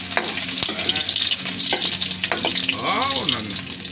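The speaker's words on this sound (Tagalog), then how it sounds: "Gisa natin yung bawang" Garlic and onion sauté in a hot pan, a steady loud sizzle broken by scraping stirs of a utensil against the pan.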